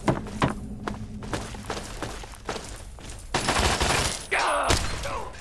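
Gunfire from a battle in the video game Fallout 3: scattered sharp shots and thuds, some close and some farther off, followed by a denser burst of noise near the end.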